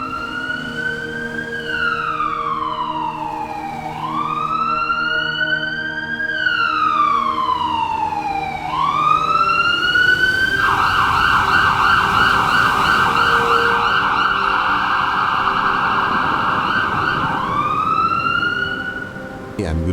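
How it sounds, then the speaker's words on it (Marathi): Loud ambulance siren wailing up and down in repeated sweeps, switching briefly to a faster yelp pattern before returning to the wail, close by. "ॲम्ब्युलन्सच्या सायरनने अनिल भानावर आला"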